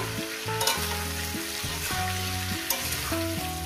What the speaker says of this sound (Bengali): দিয়ে আমি এটাকে প্রায় 5-6 মিনিট আমি এভাবে একটু ভেজে নেব